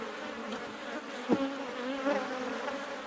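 Honey bees buzzing on a brood nest frame in a hive, a close, continuous humming drone with wavering pitch and a few louder passes of individual bees.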